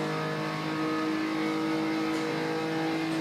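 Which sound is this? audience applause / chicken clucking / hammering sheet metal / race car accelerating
race car accelerating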